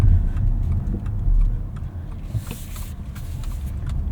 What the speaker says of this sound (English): let's go drive the Subaru Uncharted